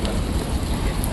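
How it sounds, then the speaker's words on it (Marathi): Rain falls steadily at a railway station, a dense, even wash of hiss and patter that stays close and unbroken throughout. "पाऊस चालू आहे"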